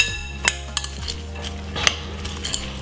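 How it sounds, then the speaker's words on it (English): Utensils stirring and tossing fried rice salad with dry chili in a bowl, soft scraping with a few sharp clinks of metal against the dish, close and fairly quiet, no talking. "Just give it a mix."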